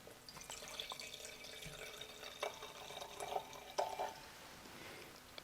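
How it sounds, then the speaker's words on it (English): Red wine, a 2018 Netzl Rubin Carnuntum, is poured from a decanter into a glass as a small tasting pour, a soft trickling splash with faint drips, quiet and close, without talk. "The decanted bottle of wine. Pour just a little taste in here for Chris."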